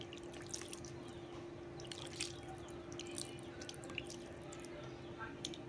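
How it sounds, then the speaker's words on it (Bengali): A little water is added to a vegetable curry pot in a home kitchen, with faint scattered drips and light trickles over a steady low appliance hum. "এখন শুধু আমি হাত ধুয়ে একটু পানি দিয়ে দেব।"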